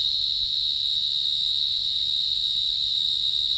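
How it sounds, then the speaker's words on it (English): Cicadas in the jungle of southern Thailand's Phang Nga and Surat Thani region make a loud, continuous high-pitched buzzing drone that holds perfectly steady throughout, with no one speaking. "you have this amazing sound of cicadas. It's so loud."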